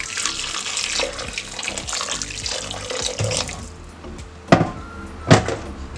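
Kitchen tap water runs into a cooking pot in a steady close stream, ending with a couple of sharp clunks of the pot being handled.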